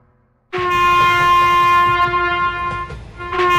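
Cartoon sound effect of a train: after a short quiet moment a loud, sustained horn blast starts suddenly over rumbling wheels, dips briefly, then swells again at the end.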